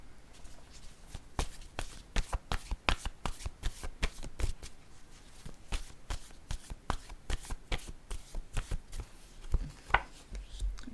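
Oracle word cards being shuffled and drawn during a card reading, with a run of crisp, uneven card snaps and riffles close up and fairly quiet, no voices in between.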